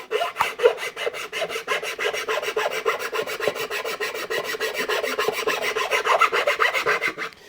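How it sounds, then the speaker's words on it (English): A fine hand file rasps back and forth over the wooden body of a thinline bass guitar, quick even strokes repeating steadily and close up, with no talking. "I'll just take a normal file"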